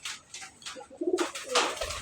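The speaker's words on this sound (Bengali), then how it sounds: "রেড কালার বোম্বাই কবুতর।" A red Bombai pigeon coos nearby in a short low burst, mixed with rustling and flapping noises, no voices present.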